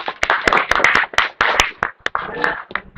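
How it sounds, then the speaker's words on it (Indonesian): A school class claps for group 1, sharp uneven hand claps from several pupils in short bursts, close and loud, with voices mixed in. "Tepuk tangan untuk kelompok 1"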